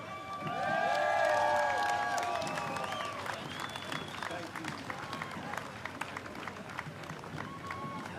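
A crowd along a Veterans Day parade route in Knoxville cheers and claps, a swelling roar with a whoop and scattered whistles that peaks early and then settles into lighter, steady applause.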